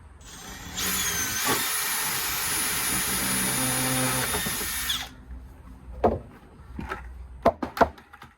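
A power drill with a hole saw cuts a hole for a mushroom-growing setup, giving a loud steady high whine for about four seconds. It stops abruptly, followed by several sharp knocks and handling clunks.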